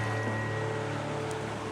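The White River in Tasmania flows past in a steady, broad rushing wash, heard continuously throughout the short stretch without any voices.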